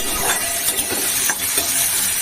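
Soybean chunks fry in hot oil in a pan, a close, continuous sizzle with soft stirring and scraping sounds, and no one speaking.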